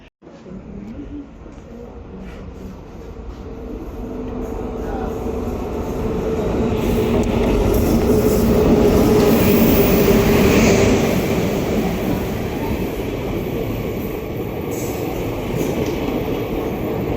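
A second-class passenger train between Pattambi and Kozhikode rumbles along steadily, growing louder midway near Kuttippuram station with rattling wheels and a faint metallic squeal, heard from on board.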